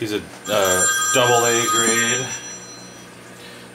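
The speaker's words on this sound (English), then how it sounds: "Sorry about the phone there." A telephone bell rings in two loud bursts, close by, while someone speaks over it about fish.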